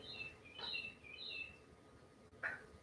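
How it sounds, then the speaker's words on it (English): Faint birdsong drifts in from outside a door: several short, high chirps and trills in a quiet room, with one slightly louder call near the end. "Wonder if you can hear the birds outside my door."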